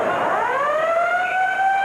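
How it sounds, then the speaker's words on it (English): An end-of-period siren sounds at a hockey arena during a 1995 NHL game at the Edmonton Coliseum, a loud, steady wail that holds for the whole stretch. "as the siren goes."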